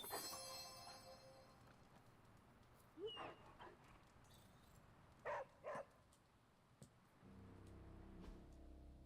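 Puppy Charlie barks in the video game Midnight Suns: a few short, faint yips and barks, spaced apart over a quiet game background, with no talking.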